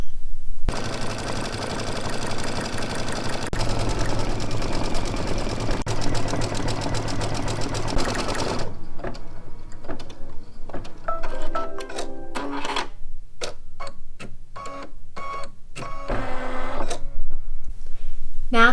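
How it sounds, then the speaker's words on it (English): An embroidery machine stitches text plus an eraser and chalk design on a teacher-themed mug rug. Rapid, dense stitching rattles steadily for several seconds, then breaks into short stop-start bursts with pauses between them. "we're going to return to the machine and do the next 4 machine steps, stitching the text and the eraser and chalk"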